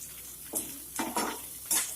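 Mourala fish being stirred with chilli, salt and spices in a pan, with several separate scraping, clinking strokes of a utensil against the metal and a faint sizzle underneath.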